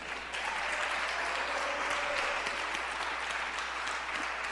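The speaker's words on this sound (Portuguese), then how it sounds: "Aplauda o Senhor bem forte." A church congregation claps loudly and steadily, the dense applause filling the whole stretch with no talk over it.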